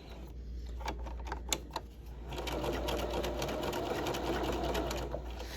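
A sewing machine stitches a facing with its lining. A few slow clicking stitches come first, then the needle runs in a steady, fast, continuous rattle up close.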